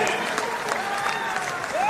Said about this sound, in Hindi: इनका जोरदार तालियों से इनका स्वागत कीजिए